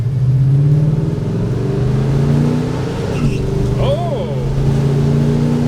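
A 1965 Chevrolet Impala SS engine drones loud and close as the car pulls hard, the steady engine note rising under the cabin, with a brief exclamation from someone inside.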